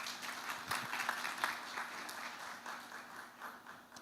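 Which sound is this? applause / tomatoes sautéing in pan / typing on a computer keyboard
applause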